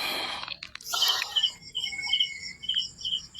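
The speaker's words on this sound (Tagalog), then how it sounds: "Oo, may kuliglig dito." Steady high-pitched chirps of crickets at night pulse in a regular rhythm against a quiet background, after a brief rustling noise at the start.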